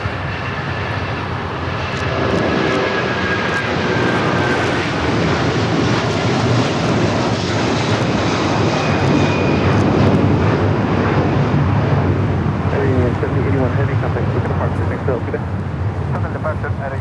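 An Avianca Cargo airplane passes an airport, its engines a loud, sustained roar that swells and then eases slowly, with people talking over it.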